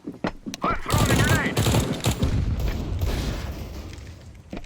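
Rapid automatic gunfire bursts and booms ring out in the video game Counter-Strike: Global Offensive, loud and close, with a voice talking over the shooting.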